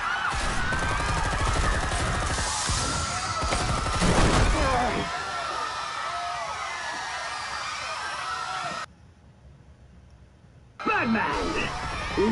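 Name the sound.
gunfire in Batman Telltale Series video game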